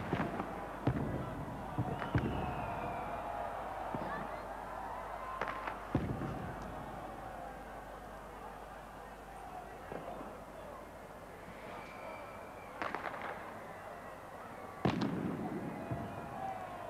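Millennium fireworks display over Helsinki, with scattered booming bursts and crackles at irregular intervals, heard from some distance beneath ongoing voices.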